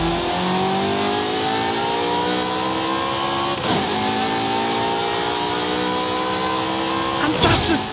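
Ferrari 355 with stock exhaust in Forza Horizon 5 revs hard, climbing through long rising engine sweeps with brief breaks between gear pulls, loud and close.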